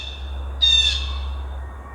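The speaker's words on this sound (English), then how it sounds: "Wildlife's squawking at us" A wild bird gives a single short, harsh squawk near a bushcraft shelter in the woods, fairly close and alone over a steady low hum.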